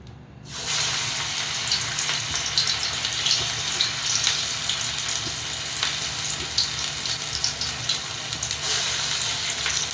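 Parippu vada, lentil fritters, deep-frying in hot oil: a loud, dense, continuous sizzle starts abruptly after a brief quiet moment and carries on steadily, close up, with no speech.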